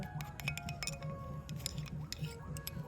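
Edible lime being stirred into cooled milk in a bowl, giving a steady run of light clinks and taps of a spoon against the dish, close and quiet, with no voices.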